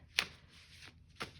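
Tarot cards being shuffled by hand, two quick papery riffles about a second apart, close and soft, with no talking.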